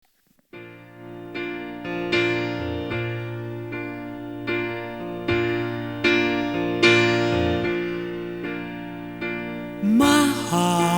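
A recorded performance of a ballad, with sustained tonal music in steady swelling phrases that builds louder toward the end, with no talking over it.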